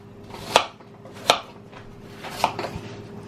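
A knife slices apples for a vegan apple pie, making three or four crisp, separate cuts, each a sharp close crunch spaced about a second apart, against a quiet background.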